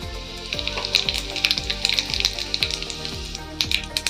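Whole cumin seeds dropped into hot oil for a carrot and beetroot sabzi, giving a steady crackling sizzle with dense popping bursts throughout, close and fairly loud, with no talking.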